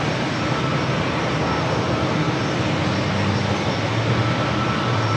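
Airliner engines roar during takeoff at San Diego airport, a broad, steady, loud rumble and hiss that holds for several seconds without a break.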